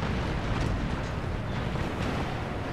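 Naval cannon fire from sailing warships in the Empire Total War game, heard as a dense, continuous rumble of loud booming broadsides with no clear gaps and no talking over it.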